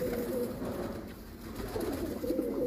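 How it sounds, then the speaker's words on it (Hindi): Domestic pigeons kept as a hobby coo in low, repeated throaty murmurs, close by and fairly steady, with no voices. "ये जी आपके भाई के कबूतर हैं"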